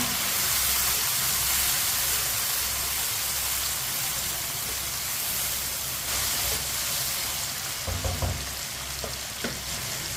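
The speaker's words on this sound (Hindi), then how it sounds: "टमाटर को भी 2 मिनट के लिए पका लेंगे ताकि टमाटर हमारे अच्छी तरह गल जाएं।" Chopped tomatoes frying in a pan for an aloo baingan sabzi, a steady broadband sizzle and hiss running throughout with occasional louder stirring bursts, close and continuous with no talking.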